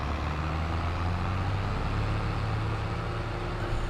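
A vehicle engine roars steadily while driving fast in Farming Simulator 22, played on PS5. The drone holds continuous and fairly loud for the full few seconds, with its tone shifting slightly.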